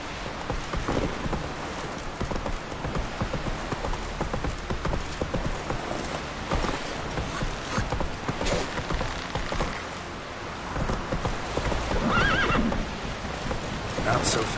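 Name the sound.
horse Roach galloping and neighing in the video game Witcher 3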